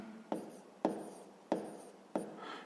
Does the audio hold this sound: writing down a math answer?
yes